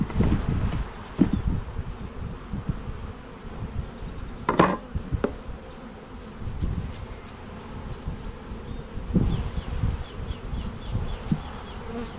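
Honeybees buzzing around a queen mating nuc, a steady close drone with occasional louder passes and brief rustling or clinking handling noises, no talk.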